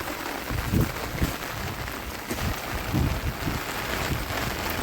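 Heavy monsoon rain pours steadily over a village, a continuous broadband hiss with occasional louder spatters and gusts, no voices.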